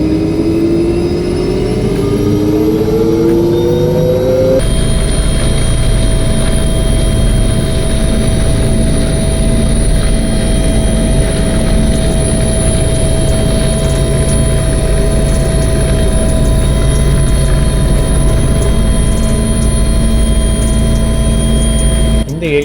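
A helicopter flies over the Himalayas between Pasighat and Anini in Arunachal Pradesh, its rotor and turbine giving a loud, steady, close drone that fills the whole stretch without letup, with voices heard beneath the noise.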